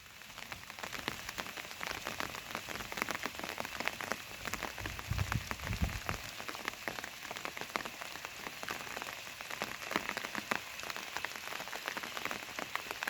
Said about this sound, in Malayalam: നിലവിലിപ്പോൾ മഴ പെയ്തുകൊണ്ടിരിക്കുകയാണ്